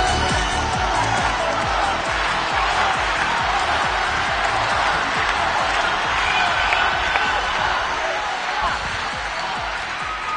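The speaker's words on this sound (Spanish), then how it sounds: "¡Ovación!" An audience at a televised singing contest bursts into an ovation, dense clapping mixed with cheering and shouts from the crowd, loud and sustained throughout.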